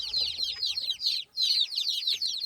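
An Aseel hen clucks close by on a farm, a rapid run of high, chattering clucks in two bursts separated by a brief pause.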